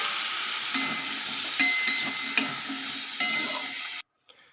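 Onions and potatoes fry with garlic-chili paste in a pan. The close, steady sizzle is broken by several sharp stirring scrapes, then cuts off abruptly.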